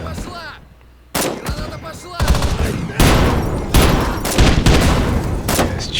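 Gunfire in the Bullet Force shooter game comes as loud bursts of rapid automatic shots and booms, near and dense, with brief gaps between volleys.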